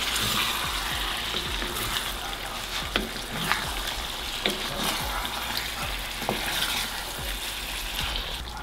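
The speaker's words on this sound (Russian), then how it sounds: "Хорошенечко перемешиваем" Chicken liver simmers in a frying pan with half a litre of 15% sour cream, a dense steady bubbling sizzle with regular spoon strokes and scrapes up close.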